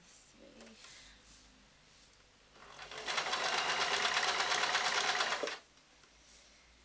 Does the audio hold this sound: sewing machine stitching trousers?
yes